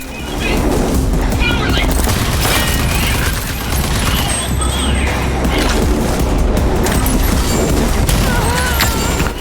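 Rapid, loud gunfire from a gun in the video game Rage 2 pounds continuously with booming impacts and crashes, a dense, near barrage layered with game sound effects.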